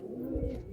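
Madrasi and Giribaz pigeons in a loft give a soft, low coo, close and brief under faint background hum.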